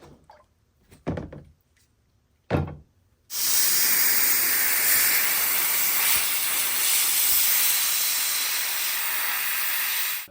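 Cleaned parts from an old V8 engine get rinsed with a water spray: a few soft knocks and handling sounds, then a loud, steady, hissing rush of spray that runs unbroken to the end.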